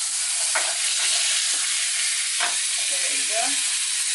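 A fish fillet flipped in a hot pan for fish tacos, a steady loud sizzle and frying hiss running throughout with a few brief scraping and shifting sounds, and a voice speaking briefly.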